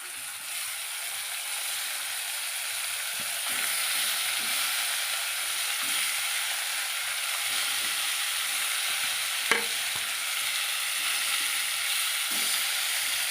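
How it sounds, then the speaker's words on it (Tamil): Dried fish coated in chilli powder fries in oil, a steady close hiss with faint crackles and a single sharp tap partway through, no one speaking. "அதனால் இப்போ இதில் எண்ணெயில் போடுறேன்."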